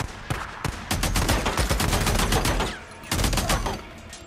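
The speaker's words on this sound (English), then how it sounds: "I just pulled out my machine gun." Rapid bursts of machine gun fire in the zombie-survival game Days Gone, loud and close, rattling in dense volleys for about three seconds, a brief pause, then another burst.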